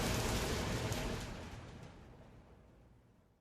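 Rain falls on a stormy night as a dense, broad hiss that starts loud and fades steadily away over a few seconds, with no voices.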